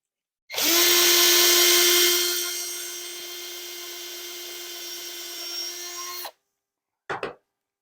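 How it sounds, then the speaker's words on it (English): A power drill whines loudly at high speed for several seconds while drilling wood for a cabinet shelf, easing slightly in pitch, then stops; a brief second burst follows. "We're going to drill that out."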